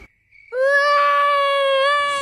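A young child screams abruptly after waking up at night in a family home, a sustained high-pitched wail that starts loud and close after a brief quiet moment.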